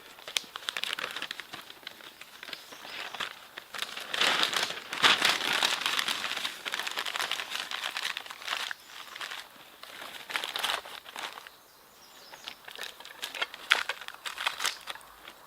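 Paper is crumpled and crinkled by hand for kindling a wood fire, a close, uneven run of crackling rustles that swells and fades with no talking.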